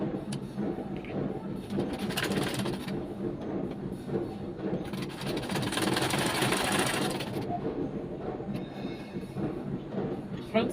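A sewing machine runs in steady stitching bursts while joining the seams of a box-pleated baby dress with puff sleeves, its close, continuous whirr dropping briefly in between and talk heard alongside.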